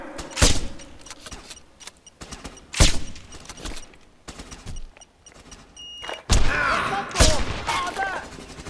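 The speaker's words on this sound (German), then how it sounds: "Das ist jetzt kein leichter Schuss." Sharp rifle shots in the video game Sniper Ghost Warrior 2, three loud broadband cracks spaced a few seconds apart, each followed by a short rumbling tail over quiet game ambience.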